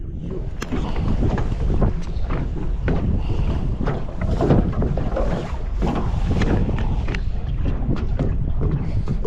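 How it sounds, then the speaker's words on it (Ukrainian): Strong wind buffets the microphone by the Hnylyi Tikich river during a zander fishing trip, a loud, steady roar with gusty swells and no speech. "Да, вітерець піднявся. Конкретний."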